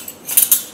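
Small metal spoons clink lightly as a child handles them, a few brief bright taps and a short rattle, close and quiet with no talk.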